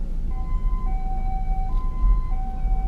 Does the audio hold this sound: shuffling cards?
no